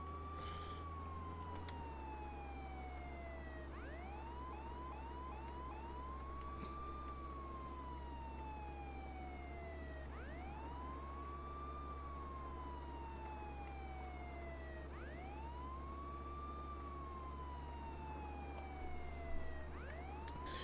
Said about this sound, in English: Turn on the damn siren